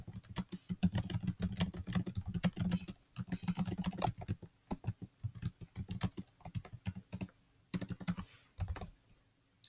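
Text is typed on a computer keyboard while entering dialogue in game-making software, a rapid irregular patter of close, crisp key clicks in bursts with short pauses and no speech.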